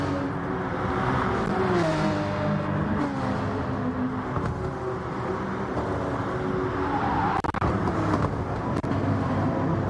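Racing cars in a pro-am championship final roar steadily along the track, engine tones rising and falling as they chase each other through straights and corners, loud and continuous with a few sharp clicks near the end.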